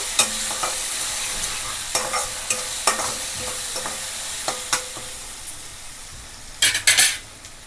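Steady sizzling of chicken marinated in salt, lemon juice and turmeric frying in a pan for pepper chicken fry, with occasional clinks and scrapes of a utensil stirring against the pan.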